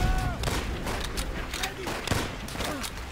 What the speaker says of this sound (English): I think a grenade blew up behind me.